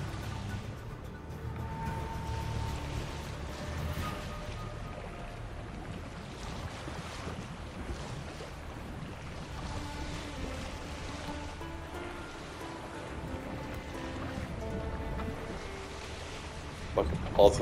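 Boat sailing on open water in The Witcher 3: Wild Hunt next-gen on PS5, a damaged vessel; steady wash of waves and wind with creaking hull, moderately quiet, with someone talking over it.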